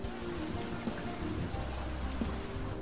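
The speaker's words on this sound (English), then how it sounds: "the rain came out of nowhere" Steady rain falls throughout, a dense, even hiss of drops with no pauses and no voices.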